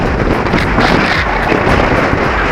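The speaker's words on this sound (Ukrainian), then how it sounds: "Вітер просто скажений." Strong wind buffets the microphone, a loud continuous roaring rumble with gusty surges and no other clear sounds.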